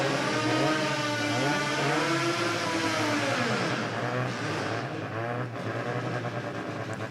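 A Mazda RX2 rotary-engine car at a street-performance event revs hard and loud, its engine pitch sweeping up and down in rising and falling waves before easing off; no talking.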